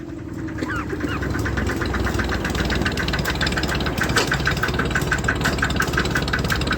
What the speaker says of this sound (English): Throttle the engine down and disengage the PTO.